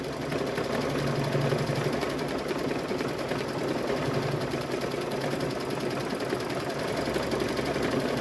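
An embroidery machine stitches a fall-themed table runner, its needle mechanism giving a steady, fast, rhythmic mechanical chatter that runs close and continuous at an even level throughout, with no talk.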